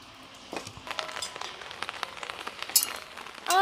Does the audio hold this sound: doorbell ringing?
no